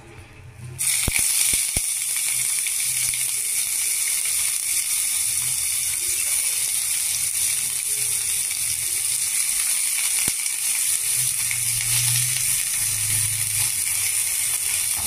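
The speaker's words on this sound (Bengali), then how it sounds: "প্রথমে আমি একটু পেঁয়াজটা আগে ভেজে নিই।" Onions frying in well-heated oil for a Bangladeshi bhorta, a steady loud sizzle that starts abruptly and continues without a break, with no one talking.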